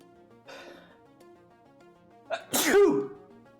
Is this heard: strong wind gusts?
no